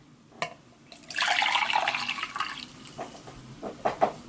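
Hot water poured into a cup, a steady splashing pour lasting a couple of seconds followed by a few light drips and clinks, close and fairly clear.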